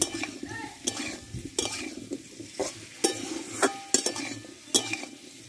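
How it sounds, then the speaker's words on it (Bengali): Potato and papaya curry being fried and stirred in a pan, with repeated scraping and clinking strokes of a spoon over a steady low sizzle, close and fairly loud. "দেখো আলু পেঁপেটা আমি ভালো করে কষে নিয়েছি।"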